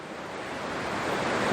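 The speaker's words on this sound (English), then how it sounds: "The sea's just started coming in." Sea surf washing in over rocks at the shore, a steady broad rush of water close by that swells slightly louder toward the end, with some wind noise and no speech.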